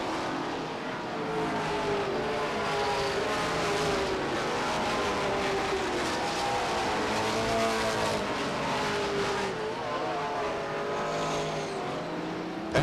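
Race cars lapping at Beech Ridge Motor Speedway during weekly racing in 1993, a dense, continuous roar of several engines whining and shifting pitch as they circle, loud and unbroken throughout.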